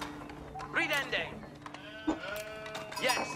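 Sheep bleating in the real-time strategy game Age of Empires IV, several wavering bleats close by over a murmuring game backdrop, with someone talking in between.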